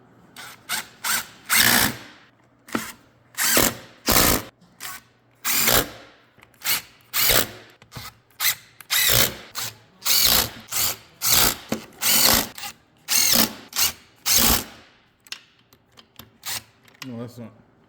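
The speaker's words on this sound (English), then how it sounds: "we'll zip in all of our case half bolts with, was it a T47?" A Torx T47 driver zips in the half bolts on a BorgWarner 13-56 transfer case, a long series of short, loud ratcheting bursts with brief pauses between, close by, with occasional voices.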